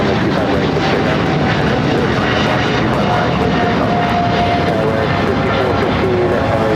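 A Boeing Dreamliner jet departs Los Angeles International Airport, its engines roaring loud and steady throughout, with faint radio chatter under the noise.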